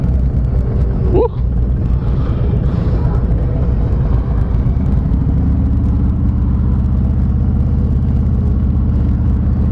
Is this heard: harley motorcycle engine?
yes